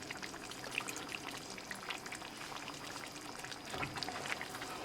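Fresh lemon juice poured into a pot of aloo fish curry made with Pacific cod and potatoes, a soft continuous liquid trickle with small splashy drips, fairly faint and steady with no talking.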